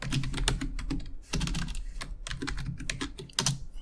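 Computer keyboard typed on in quick, uneven bursts of clicking keystrokes with a brief pause, close and fairly quiet, while entering a password with no talking.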